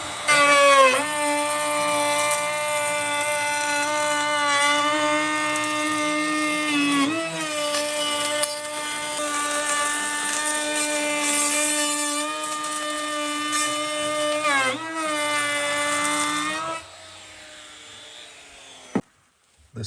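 Wood router cutting a decorative edge on a wooden window part for an epoxy window repair, a loud sustained high whine with several brief dips as the cut changes, then spinning down and stopping near the end.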